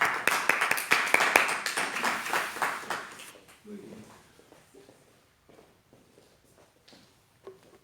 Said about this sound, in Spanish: Y este aplauso es para ti